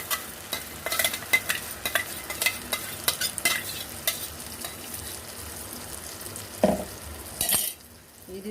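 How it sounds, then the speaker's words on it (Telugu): Tomato paste for egg curry frying in a pan while being stirred, with a steady sizzle under repeated scraping strokes and a few sharper clinks of the spoon, ending in a brief louder hiss. "పచ్చివాసన పోయేంత వరకు బాగా కలుపుతూ ఏగనివ్వాలి"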